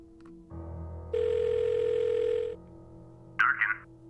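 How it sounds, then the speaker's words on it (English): A telephone call in the point-and-click video game Blackwell Deception: a steady dial tone, then a long electronic ring tone lasting over a second, followed by a short warbling chirp as the line connects, clean and alone. "All right, let's call Durkin."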